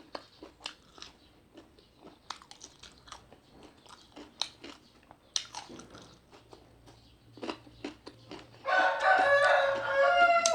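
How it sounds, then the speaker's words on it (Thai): A rooster crows loudly and close by near the end, following a stretch of scattered clicks and soft chewing-like sounds. "มาพร้อมกับเสียงไก่ขัน"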